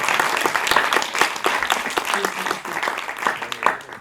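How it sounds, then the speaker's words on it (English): Audience applause in a Q&A setting after a film screening of "Pilgrims" for Laurynas Bareiša and Klementina Remeikaite, a steady dense round of clapping from a room of people, fairly loud and sustained throughout. "Big round of applause for Laurynas and Klementina."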